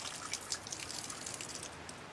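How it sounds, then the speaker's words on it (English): Urine trickles and patters in a soft, uneven stream as Naruto and Sasuke pee in the anime, faint and close with small splashy drips and no talk. "I gotta go take a leak!"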